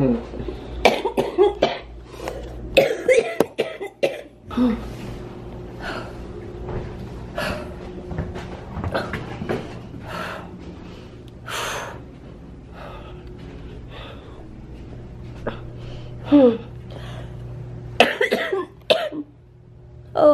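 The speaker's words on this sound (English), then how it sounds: "I'm trying not to cough." A person coughs several times in short, sharp bursts, mostly near the start and again toward the end, with quieter stretches and background noise in between.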